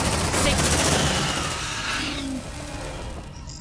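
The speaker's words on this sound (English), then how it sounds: "Suppressive fire!" Suppressive gunfire in the video game Aliens: Dark Descent, a sustained loud automatic barrage that cuts off and gives way to a quieter rumble, with a voice briefly audible.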